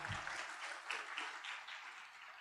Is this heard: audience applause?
yes